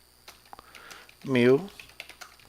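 Light clicks of typing on a computer keyboard while writing in the Lazarus Pascal editor, a few quiet keystrokes around a brief spoken word.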